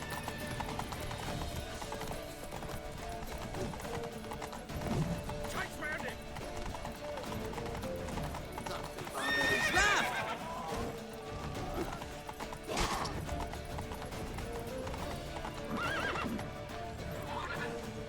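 A horse gallops with rapid, steady hoofbeats and neighs loudly a few times in The Witcher 3, with game voices and shouting mixed over the running.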